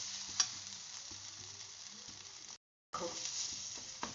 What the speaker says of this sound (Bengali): এখানে দাঁড়িয়ে দাঁড়িয়ে সমানে এটাকে নাড়তে হবে